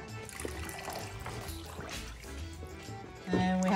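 Two-thirds of a cup of water poured into cake batter mix with eggs, a faint trickle under talking voices that swells into a louder pour at the end.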